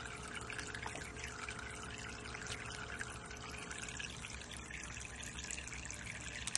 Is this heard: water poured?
yes